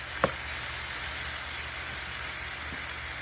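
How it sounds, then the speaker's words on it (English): Food seasoned with paprika and garlic cloves sizzles quietly in a pan, a soft steady hiss with a single faint clink of stirring near the start. "Start to stir it a little more."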